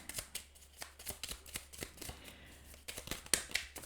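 Tarot cards are shuffled for a reading in quick, close riffling bursts with soft slaps between them, fairly quiet and with a faint voice nearby.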